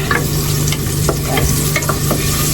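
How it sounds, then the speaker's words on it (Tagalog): Butter with a little cooking oil sizzles loudly in a pan, a close, continuous frying crackle with occasional stirring scrapes. "Kunting mantika lang kasi para hindi masunog yung butter."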